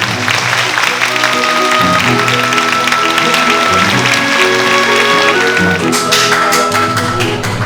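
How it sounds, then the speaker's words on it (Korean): A standing audience applauds steadily and at length after a bandoneon tango performance, dense sustained clapping close by, with a sustained bandoneon chord still ringing faintly under the start and sharper claps joining near the end. "연주가 끝남과 동시에 관객들의 끊임없는 기립박수가 이어집니다"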